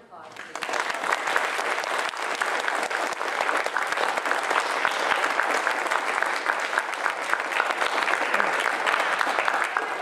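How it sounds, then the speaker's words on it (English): Audience applause at a school play, a loud, sustained burst of many hands clapping that rises quickly and holds steady throughout, with faint voices mixed into the crowd. "So a round of applause, please."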